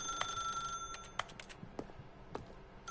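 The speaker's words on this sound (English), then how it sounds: "I'm trying to pick up the rotary phone." Old rotary telephone bell ringing in The Stanley Parable video game, a few ringing bursts with sustained metallic tones fading into faint clicks and room noise, no talking.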